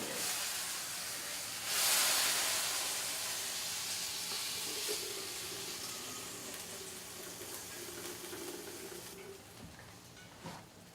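Hot liquid drained from a pan of cooked turkey for a turkey burrito, heard as a steady, broad hissing, sizzling pour that swells briefly near the start and runs on continuously, close and fairly loud, with no talking.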